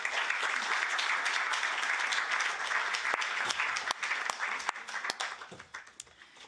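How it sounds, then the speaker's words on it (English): A conference audience in Brussels applauds to close a session, a dense round of clapping that thins into scattered individual claps near the end, with no talk over it. "So a round of applause to close this very first session"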